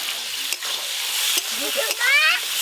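Meat sizzles and fries in a pot with biryani spices while being stirred for a picnic biryani, giving steady close hissing and scraping throughout, with a few sharper clinks along the way.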